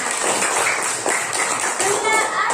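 Schoolchildren clap together in a classroom, a brisk rattle of small hands with a few children's voices mixed into the noisy room.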